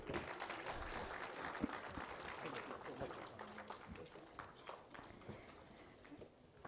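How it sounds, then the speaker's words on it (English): Applause from an audience at a Trafotech Global 2025 event as panelists are honored, a steady broad wash of clapping throughout, with some voices and movement mixed in. "Can we have a round of applause, please?"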